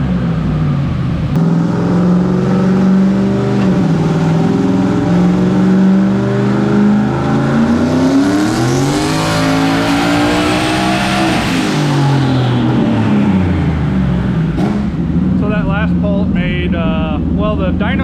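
A turbocharged car engine on a dyno pull roars loud and close, its pitch climbing steadily through the rev range before backing off, with a brief turbo whoosh and talk at the end.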